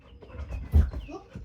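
A gentle rescued dog pants in short, rapid breaths close by, with a brief louder burst of breathing in the middle of the run.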